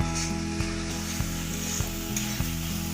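Spice paste frying and being stirred in a pan for Bengali egg do-pyaza, a steady close sizzle broken by regular scraping strokes about every half second, with no talking.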